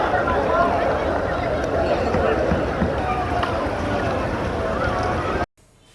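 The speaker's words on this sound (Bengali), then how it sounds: "এই উঙ্গাট রিভার বা ডাউকি রিভার ধরেই আমাদের বোট এগিয়ে চলল সামনের দিকে।" A tourist boat moves along the clear Dawki (Umngot) River in Meghalaya, a steady close rumble with rushing water and wind noise that ends abruptly.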